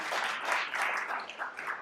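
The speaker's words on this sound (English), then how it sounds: "Yes, you can clap for that." A church congregation applauding, many hands clapping together in a dense, even burst that carries briefly through the room.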